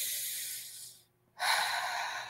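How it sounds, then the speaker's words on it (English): A group inhales slowly and deeply during a school morning announcement, a soft breathy rush that stops briefly before a louder airy exhale follows. "Let's all take a deep breath in."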